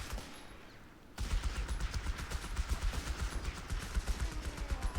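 Rapid machine gun fire in Company of Heroes 3, a dense stream of loud, closely spaced shots that bursts in after a quiet second and keeps rattling steadily to the end.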